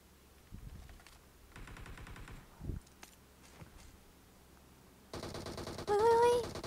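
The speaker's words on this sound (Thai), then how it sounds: "มีคนยิงมีคนยิงช่วยด้วย" Gunfire in a video game, heard as scattered bursts and single shots at low volume amid game noise and footsteps, ending in a louder shot with a brief tonal effect.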